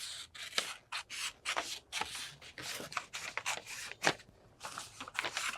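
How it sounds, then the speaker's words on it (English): Scissors cut around a paper sewing pattern piece at close range, giving a run of crisp, rhythmic snips and rustling paper strokes. Each cut comes in a quick burst with short pauses between, and no one speaks. "let me just cut around this here like this, cutting around"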